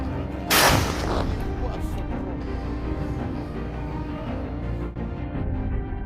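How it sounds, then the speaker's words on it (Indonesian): An explosion at the Chonhar checkpoint linking Crimea to the mainland, recorded from the ground: one sharp, loud blast followed by a long, dull rumble that lingers at a distance. "Ledakan itu direkam dari darat"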